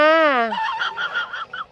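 Ducks quacking up close: a drawn-out, honking call gives way to a run of quick, chattering quacks, with no voices in between.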